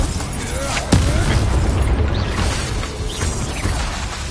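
A Bombarda blasting spell explodes in the Hogwarts Legacy video game: one sharp, loud boom bursts out near the start, then a dense rumbling wash of game effects and background noise carries on steadily.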